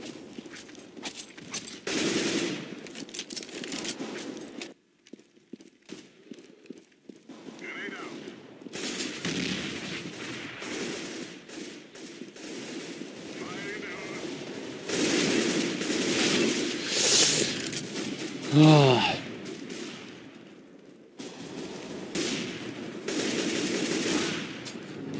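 Counter-Strike: Global Offensive gunfire crackles in repeated rapid bursts and single shots, with footsteps and game effects between volleys and a voice talking at times over the shooting.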